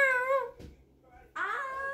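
A voice imitates a cat with two drawn-out meows separated by a short pause.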